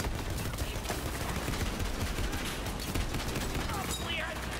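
Burst rifle gunfire in the Borderlands 3 video game, continuous dense shooting with rapid cracks and chatter running steadily throughout, loud and close, mixed with game effects.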